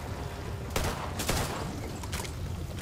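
In the video game Back 4 Blood, gunfire rings out in a couple of sharp bursts of rapid shots over a steady rumbling game backdrop, moderately close with no speech.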